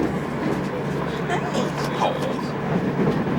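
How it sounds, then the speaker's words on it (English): A passenger train ride from Maastricht to Amsterdam gives a constant rumbling carriage drone while people talk over it. "Evan and his Marmar and Paul on the train from Maastricht to Amsterdam."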